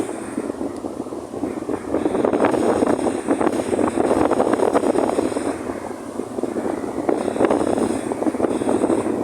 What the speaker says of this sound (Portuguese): Se tiver um barulho aí, pessoal, é o vento. Tá muito vento aqui.